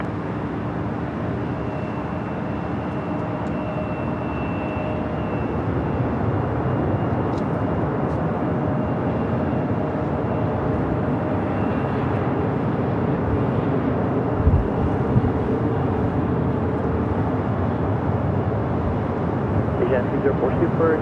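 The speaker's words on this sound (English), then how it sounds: "All right, the A380 Super will now cross over 24 left." Steady broadband roar of aircraft at Los Angeles International Airport as an Asiana Airbus A380 taxis across runway 24 left, a continuous distant rumble with faint tonal whine, holding evenly throughout.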